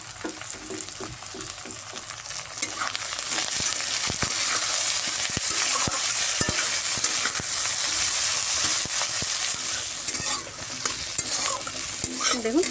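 Crabs frying with onion and chili in a pan give a continuous loud sizzle, with frequent sharp scrapes and clicks of stirring, and no voices.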